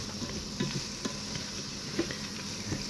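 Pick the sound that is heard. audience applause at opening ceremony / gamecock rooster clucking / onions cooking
onions cooking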